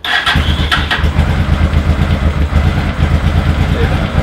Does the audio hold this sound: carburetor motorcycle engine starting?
yes